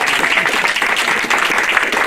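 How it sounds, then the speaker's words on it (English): A roomful of listeners at a storytelling gathering gives a short, loud burst of dense, continuous applause, many hands clapping together close by. "Let's give them a round of applause."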